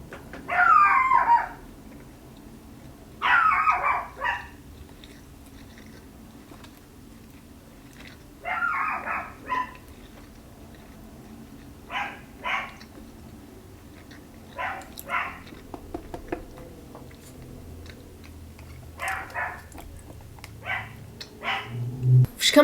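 A pet dog barking in an apartment, with sharp bark bursts near the start and then scattered, quieter, more distant yips spread across a long stretch of low room noise.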